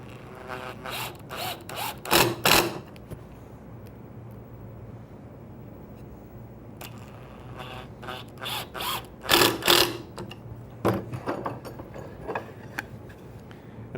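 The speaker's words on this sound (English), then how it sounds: "Then simply drive the screws in." Screws driven into a wood screw joint in a woodworking shop, heard as two bursts of mechanical driver whirring and ratcheting clicks a few seconds apart, fairly close, with quieter rubbing and handling noises between them.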